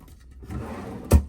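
A wooden drawer in a cruise ship balcony cabin slides along with a soft rubbing scrape and then shuts with a sharp, close thud.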